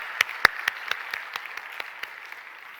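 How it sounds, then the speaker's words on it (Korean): Applause from a church congregation during a Sunday service, a dense wash of clapping with a few sharp louder claps near the start, fading gradually over about three seconds. "하나님 앞에 영광의 박수를 한번 드리겠습니다"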